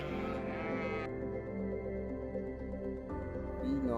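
A sheep bleats loudly and close up in a long wavering call at a ranch pen, followed by another shorter bleat, with no talking.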